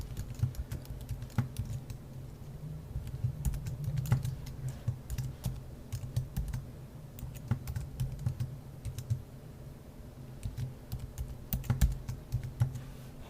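Fingers tap out a password on a computer keyboard in quick, uneven bursts of close key clicks, with short pauses between runs and a faint background hum.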